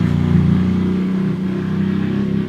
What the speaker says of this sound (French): il y a une moto qui arrête pas de faire des allers-retours